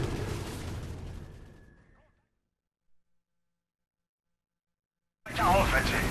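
Modern Warfare 3 campaign combat with a sniper: a loud, dense burst of gunfire and explosive rumble fades into dead silence, then another heavy blast erupts abruptly near the end.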